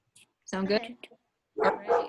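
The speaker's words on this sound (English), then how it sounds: "Sorry for my dog barking in the background." A pet dog barks a couple of short times close by, each bark coming in a quick burst while a person talks casually over it.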